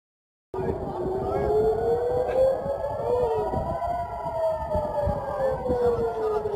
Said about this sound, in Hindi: तल अवीव के अंदर खतरे के सायरन बजना शुरू हो गए